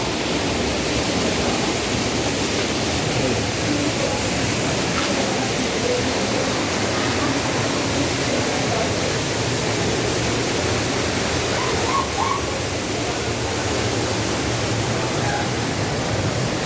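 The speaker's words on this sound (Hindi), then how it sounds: "तो ये देखिए सबसे बड़ा झरना ये है" The large waterfall at Robbers Cave (Guchhupani), Dehradun, roars continuously, a dense, even wall of rushing water that stays loud and unchanging throughout.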